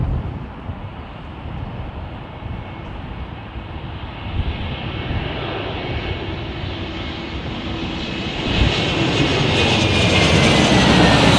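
A jet airliner roars at London Heathrow Airport, a broad continuous rumble that swells louder toward the end as the aircraft nears, with no voices over it.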